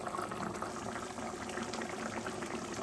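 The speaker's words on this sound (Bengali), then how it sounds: "ঝোল ফুটতে শুরু করেছে" Fish curry gravy bubbles steadily in a pan, a continuous close, even simmering burble with no talking.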